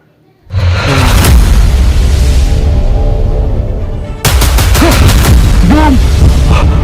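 A bomb explosion in a detective drama bursts in as a loud, sustained, rumbling roar, with a second blast hitting partway through and keeping the din going.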